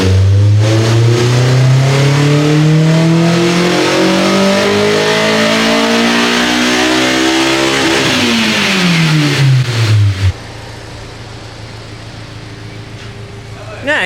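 A Honda S2000 engine with a new exhaust revs hard on a dyno pull, the pitch climbing steadily for about ten seconds before abruptly dropping off to a lower idle rumble, loud and close.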